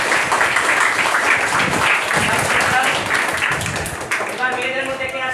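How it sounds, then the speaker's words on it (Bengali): A classroom of students applauds a presenting pair during an ICT simulation lesson, a steady burst of many hands clapping close by, fading slightly toward the end. "ওদের জন্য আমরা জোরে হাততালি দেই"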